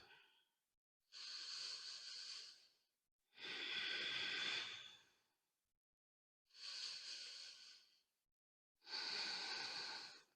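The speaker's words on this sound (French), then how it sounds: "on va rester là 2 cycles entiers de respiration Ujjayi" Ujjayi yoga breathing during a beginner vinyasa session, four long, audible oceanic breaths with a hissing, throaty texture, each lasting one to two seconds and separated by quiet gaps, close and clear with no talking.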